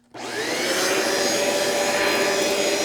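Bissell ProHeat 2X Revolution carpet cleaner with its smaller attachment switches on and runs, a loud, steady whirring suction roar that starts abruptly and holds constant throughout.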